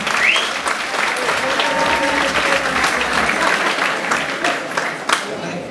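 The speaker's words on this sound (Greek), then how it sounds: "Ένα χειροκρότημα" Event audience in Corfu applauds a speaker invited to say a few words, a thick, sustained roar of clapping that stays even and fairly loud throughout.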